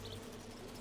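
Bees buzz continuously in a video game, a faint, low, steady drone with no pauses and nobody speaking over it.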